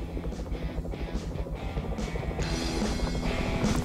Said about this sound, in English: To the chopper!